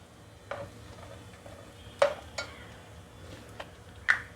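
Chopped onion with mustard seeds fries quietly in a pan, with a low sizzle broken by a few sharp spoon scrapes and clinks against the metal.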